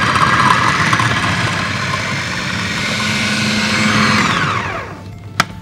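A food processor whirs steadily and loudly while blending a salmon patty mixture, then spins down near the end, followed by a single sharp click.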